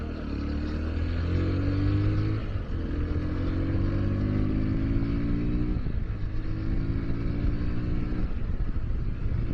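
A Sinnis Terrain 125 Euro 5 motorcycle runs in gear, its single engine droning and rising in pitch through a few pulls, with brief dips where the throttle eases, close and steady throughout.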